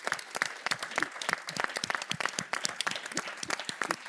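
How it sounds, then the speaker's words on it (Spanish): Audience applause at a public civic dialogue event, steady dense clapping from a crowd filling the room, loud and sustained without speech. "los dos merecen un gran aplauso"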